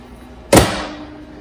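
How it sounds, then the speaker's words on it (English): A microwave oven door, on an oven converted into a UV curing chamber, shuts with a single sharp, loud thud that decays quickly, heard close up against a quiet room hum. "I'm going to close the door."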